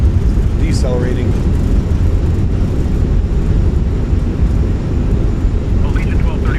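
Thrust reversers of an Airbus A319 after landing in a flight simulator game, a loud continuous low engine roar filling the whole clip, with brief voices over it.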